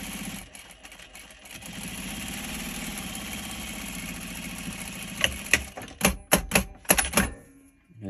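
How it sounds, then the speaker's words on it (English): A sewing machine stitches binding onto the top edge of a quilted tote bag, with a steady running whir for several seconds, then short stop-start bursts of stitching near the end. "I'm going to back stitch at the beginning, use a 1/4 inch seam allowance and apply it to the top."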